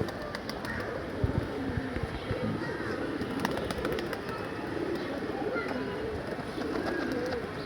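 A flock of pigeons bathes in the afternoon, with soft cooing and scattered wing flutters and splashes over a busy background, while muffled voices murmur faintly.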